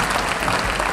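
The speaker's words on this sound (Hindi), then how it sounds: "एक बार और आप जरा उत्साह भरी तालियां बजा दीजिएगा" Dense, steady applause from a live audience at a Hindi comedy poetry event, a full continuous wash of clapping with no gaps.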